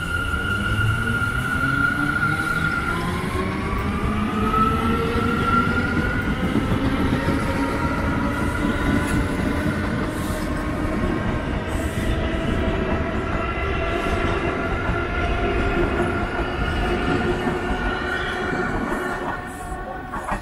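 A Far Rockaway–bound Bombardier R179 A subway train at the elevated Beach 44th Street station rumbles loudly and continuously, motor tones rising and falling in pitch over steady wheel noise and faint squeals, close by throughout.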